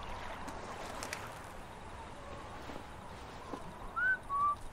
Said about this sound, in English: One of us whistled.